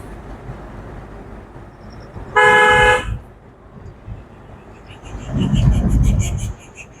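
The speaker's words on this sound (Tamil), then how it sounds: "Horn one more." A car horn honks in one steady blast of about half a second during a driving lesson, set against quiet road and cabin noise. Later a louder low rumble of passing traffic swells and then fades.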